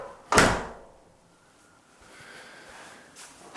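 A door shuts with a single firm thud, followed by a faint hushed room tone.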